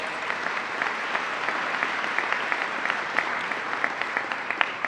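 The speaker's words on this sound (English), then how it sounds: "Let's give them a big round of applause." Steady, fairly soft applause rises from the crowd at a governor's funding announcement, with scattered sharper claps standing out over the continuous patter.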